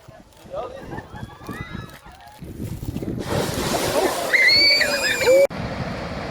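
A hot spring in southwest Iceland erupts, with rushing, sloshing water growing louder and fuller midway and then steadying, while people talk in the background.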